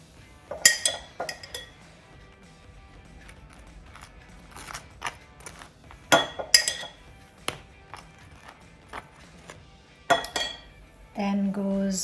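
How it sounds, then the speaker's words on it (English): A knife scrapes mayonnaise across warm baguettes, with scattered clinks and scrapes of cutlery against a plate, some sharper bursts of contact and a short run of steadier rubbing at the end, close up and with no voices. "I'm just going to spread some gorgeous mayonnaise on top."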